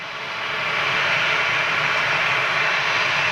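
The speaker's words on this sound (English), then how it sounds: "Ryanair 737" A Ryanair Boeing 737 jet departs from Manchester, its engines swelling into a loud, sustained roar that stays strong and even to the end, with no voices.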